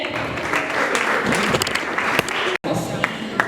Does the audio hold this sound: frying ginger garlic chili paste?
no